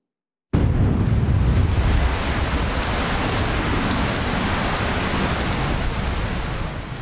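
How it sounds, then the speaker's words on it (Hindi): Heavy monsoon rain pours down in a dense, unbroken roar that starts abruptly and stays loud and steady throughout, with no clear thunderclaps standing out. "आसमान से आफत की बारिश रुकने का नाम नहीं ले रही है।"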